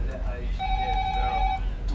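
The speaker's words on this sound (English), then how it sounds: "Ooh, phone call. The hotline." A telephone rings once, a steady electronic tone lasting about a second, set against a noisy crowded room during a gin tasting class aboard the cruise ship Queen Elizabeth, with people talking in the background.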